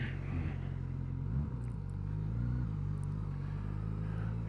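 A Suzuki GSX-S1000 motorcycle engine rumbles low and close, with a brief auto-blip rev on a downshift breaking the steady drone, and no talk over it.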